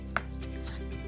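Knife work on a large home-grown papaya, one short sharp scrape followed by faint soft rubbing strokes, close and quiet, with no talking.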